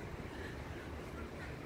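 Wind and sea waves at a seaside promenade in Alsancak make a faint, continuous rushing wash with low rumble and microphone buffeting, heard from the shore with no clear voices.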